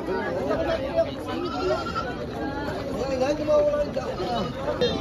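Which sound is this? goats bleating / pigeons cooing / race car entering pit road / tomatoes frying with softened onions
goats bleating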